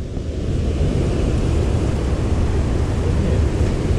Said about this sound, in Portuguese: E chegamos na cachoeira.